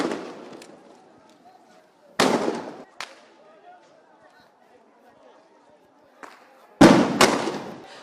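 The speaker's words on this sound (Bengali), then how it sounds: "কিছুক্ষণ পরপরই এখানে মুহুর্মুহু ফাঁকা গুলির আওয়াজ হচ্ছে" Blank gunshots and tear gas shells fired at a street protest, several sharp loud bangs spaced apart, including a close double blast near the end, with a voice talking between them.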